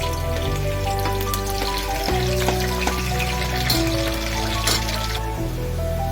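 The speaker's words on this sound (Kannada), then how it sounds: "ನಂತರ ಬೀನ್ಸ್ನ ಫ್ರೈ ಮಾಡಿ" Green beans fry in a hot pan for tomato rice pulao, giving a steady, close sizzle with scattered pops and crackles under continuous background music.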